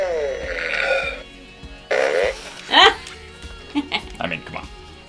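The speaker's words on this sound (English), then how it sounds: "It makes fart noises and moves." A toy robot making fart noises, several buzzy, burp-like bursts in a row, loud and close, with short squeaky blips following.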